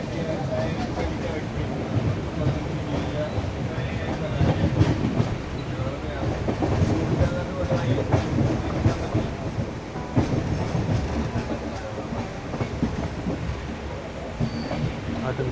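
A train runs through Kerala in monsoon weather, with steady rumbling and clickety-clack of the carriages close by, and a voice talking over it.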